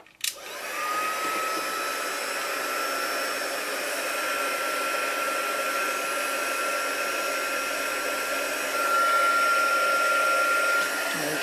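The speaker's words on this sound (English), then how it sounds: "And then I can heat it up with my heat tool." A handheld craft heat tool blows hot air onto cardstock, starting with a click and then holding a loud, steady whooshing whine with a high tonal hum, close up and uninterrupted for about eleven seconds.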